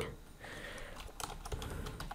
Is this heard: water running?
no